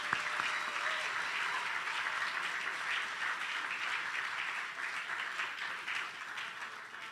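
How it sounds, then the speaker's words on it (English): A hall full of people gives award winners at a fraternity honours day convocation a sustained round of applause, even and thick throughout, tapering a little toward the close. "can we have one more round of applause for all of our winners?"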